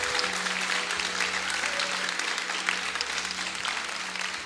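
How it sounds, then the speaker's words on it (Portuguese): A church congregation applauds steadily throughout, dense clapping with a sustained low organ or keyboard tone beneath and faint voices mixed in. "Aplauda mais forte e glorifica Ele"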